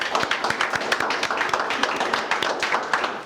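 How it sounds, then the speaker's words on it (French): Audience applause at a book launch event held by a burgomaster, a dense, steady patter of many hands clapping close by for a few seconds. "Sous vos applaudissements, s'il vous plaît."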